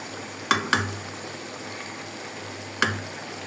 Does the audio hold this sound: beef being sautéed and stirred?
yes